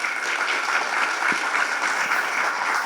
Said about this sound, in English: Give a round of applause once again to David.